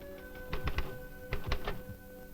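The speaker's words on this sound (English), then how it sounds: "types out its reports on an automatic typewriter" Automatic typewriter in an instrument laboratory typing out reports, two quick clusters of three or four mechanical key strikes over a steady machine hum, fairly faint and alone.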